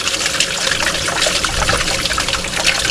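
Water trickles from hoses into a Japanese garden water feature, a steady close splashing dribble that runs without pause and without talk.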